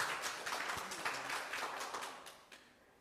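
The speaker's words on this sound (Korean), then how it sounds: "다시 한번 뜨거운 박수 부탁드리겠습니다" An audience at a village welfare plan proclamation ceremony in Uiwang, Korea, gives dense, continuous applause of many hands that holds steady and then gradually fades toward the end.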